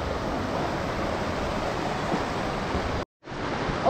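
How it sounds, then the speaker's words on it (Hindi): Water rushes loudly and steadily over rocks near a hanging bridge in Komsing, Arunachal Pradesh, a dense continuous roar with one brief dropout near the end. "एंड यहाँ पर देख सकते हो पानी।"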